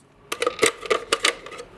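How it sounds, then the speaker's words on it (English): Scissors cut through a plastic bottle in a quick run of about seven sharp, crisp snips and crackles, close up and loud against near silence. "Sometimes the scissors are better"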